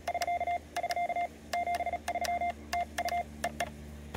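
Keyed tones from a stainless CW paddle on a radio, steady beeps in short and long groups with pauses between, clear and alone with no talk.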